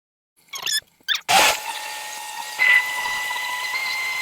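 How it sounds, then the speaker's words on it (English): After a few short clattering knocks, a kitchen blender kicks on with a loud burst and settles into a steady whirring motor drone while blending cooked beans with cloves for a vegan habichuelas con dulce. "I'm gonna add the beans with the cloves in the blender."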